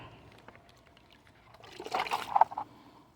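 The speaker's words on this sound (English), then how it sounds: "We'll go ahead and put some water in that dude." Water from a bucket pours into a gold pan in a short splashing burst, close by and moderately loud, rising after a quiet start and then tapering off, with no talk.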